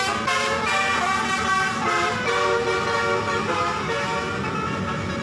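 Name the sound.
telolet bus horns honking in the distance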